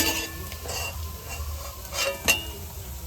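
Potato fries in oil left over from lentil fritters for a cauliflower stew, a soft continuous sizzle under occasional stirring scrapes and one sharp metallic clink near the end.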